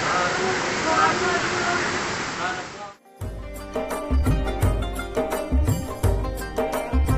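The Panchalingeswar waterfall near Balasore, which covers a Shiva temple's five lingas, gives off a steady, dense rush of falling water. It runs for about three seconds, then music with a beat abruptly replaces it.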